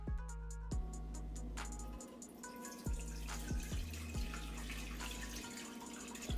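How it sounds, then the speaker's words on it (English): Water pours steadily into a pot for boiling, a continuous close splashing stream broken by a few small knocks and clinks, with no talking. "Now we're going to add the water to the pot."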